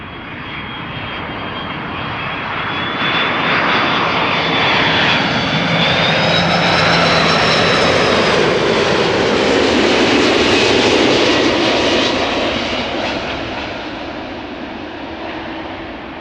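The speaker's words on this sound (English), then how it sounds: "Turkish Airlines flight 1951 up next, arriving from Istanbul, Turkey. A330-200." A Turkish Airlines Airbus A330-200 arrives at Amsterdam Schiphol Airport, its jet engines swelling from a distant roar to a loud, whining pass overhead, then easing away.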